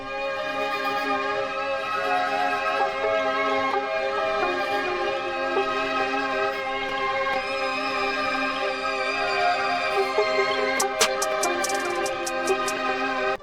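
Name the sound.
beat samples with tempo automation rising and pitch automation falling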